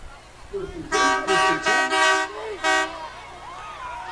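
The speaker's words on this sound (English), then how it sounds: "Haven't heard the train horn a lot tonight" A loud train horn sounds in a rapid series of about five short, blaring blasts during a varsity football game, then falls quiet against a low background hum.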